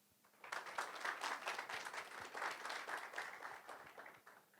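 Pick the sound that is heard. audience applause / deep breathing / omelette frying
audience applause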